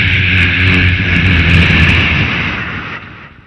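A voice mimics an airplane coming in to land, giving a loud, broad rushing roar with a steady whine layered over it that sustains and then gradually trails off.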